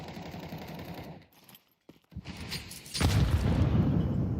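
Grenade explosion in a Counter-Strike match, a loud burst of blast noise after a brief near-silent gap, then sustained loud rumble and crackle.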